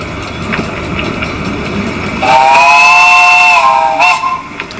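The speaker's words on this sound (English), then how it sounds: "It's got a good whistle on it." A steam engine on the Cleethorpes Coast Light Railway sounds a loud, sustained two-tone whistle for about two seconds, rising over a background rumble and faint clatter of the train, then cutting off.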